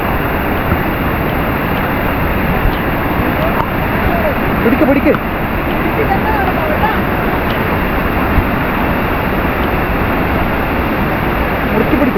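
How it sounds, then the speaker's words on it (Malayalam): Ezharakkund waterfall in Kannur rushes with powerful flow, a loud, unbroken roar of churning water filling the whole scene close up. "വെള്ളം അത്ര പവർഫുള്ളായിട്ടാണ് ഒഴുകി വരുന്നത്"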